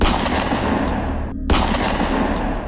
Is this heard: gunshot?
yes